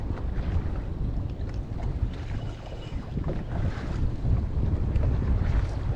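Wind gusting across a fishing boat on open water, rough low rumbling buffets that rise and fall continuously and fill the whole clip.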